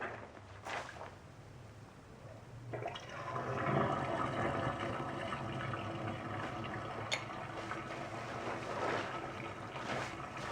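Water gurgles and rushes as it drains away after a knitted garment is hand-washed. A brief knock comes first, then a steady, moderately loud flow continues to the end.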